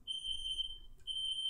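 A smoke or fire alarm beeps from inside an apartment complex during a fire-equipment check. A steady, piercing electronic tone is broken by one short gap and then resumes, moderately loud, with no one talking.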